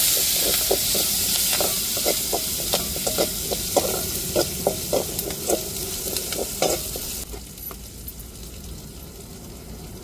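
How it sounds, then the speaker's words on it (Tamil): Curry leaves crackle and sizzle in hot oil while tempering rasam with mustard seeds and garlic, giving a loud, busy spatter of sharp pops with stirring over a steady frying hiss. The sizzle drops to a quieter hiss near the end. "கருவேப்பிலை சேர்த்துக்கிடுவோம்."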